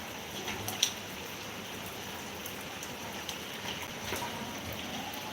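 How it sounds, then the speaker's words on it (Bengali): Rain falls steadily in a soft, even hiss with a few faint drop taps, quiet and without voices. "বৃষ্টিতে ভিজছে ছপাক ছপাক"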